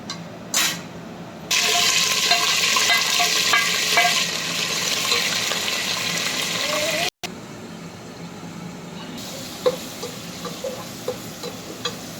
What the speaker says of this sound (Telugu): ప్యాన్ పెట్టుకుని ఆయిల్ వేసుకొని ఓవర్ గరం మసాలా వేసుకోవాలండి